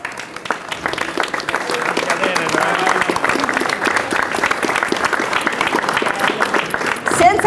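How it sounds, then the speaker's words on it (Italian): Steady, full applause fills a room at the opening of an art exhibition at the Scuola Grande di San Teodoro, sustained clapping with a faint murmur of the crowd beneath it. "a cui facciamo un meritevole applauso"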